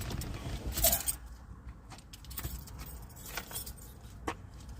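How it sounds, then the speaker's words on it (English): Keys jangle as they are grabbed, a bright metallic rattle near the one-second mark followed by a few softer clinks, over a low rumble of a car or road background. "Grab my keys."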